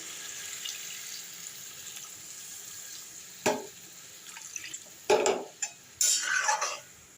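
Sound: water poured into drumstick poppy-seed curry

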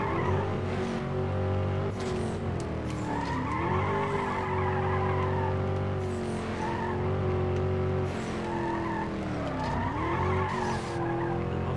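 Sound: car braking and skidding in video game Need for Speed Undercover

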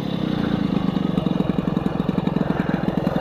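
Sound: motorcycle engine idling after cylinder head repair

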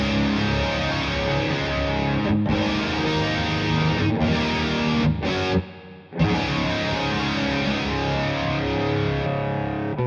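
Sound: electric guitar through AmpliTube Orange amp simulation with chorus effect

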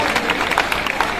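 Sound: audience applause after a play

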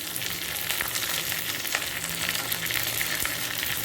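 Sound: dry red chilli, mustard seeds, curry leaves tempering in oil

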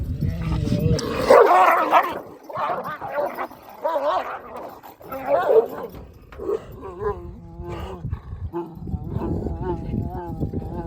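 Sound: dogs fighting and barking

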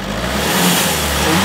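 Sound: car engine revving at wide open throttle

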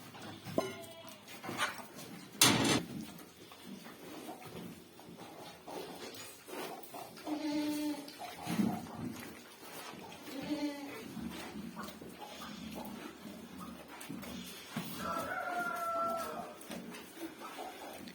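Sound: goats bleating during morning feeding

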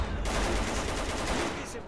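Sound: gunfire at a mutant in the video game STALKER Call of Pripyat

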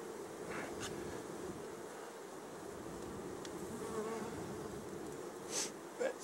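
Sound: bees buzzing at a beehive

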